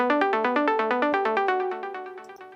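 Bright 80s-style analog synth patch from the Diva plugin, Stranger Things flavour, playing a fast repeating arpeggio of plucky notes, up close and alone, gradually fading slightly over a couple of seconds.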